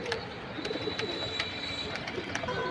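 A pair of military pigeons coo repeatedly up close, soft throaty calls over a busy background with sharp intermittent clicks.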